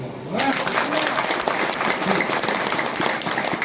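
An audience in a town hall claps in a dense, steady burst of applause that runs throughout, with a voice faintly heard over it near the start.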